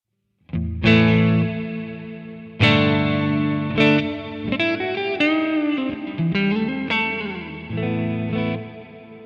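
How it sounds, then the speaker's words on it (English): Electric guitar with a room reverb setting on a LEKATO Tank-G effects pedal, playing several strummed chords and bending single notes, each ringing with a short, natural ambient tail. "and then the room reverb"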